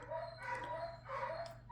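A dog whimpering and yipping softly in the background of a home painting session, a few faint whiny, voice-like cries spread across the moment.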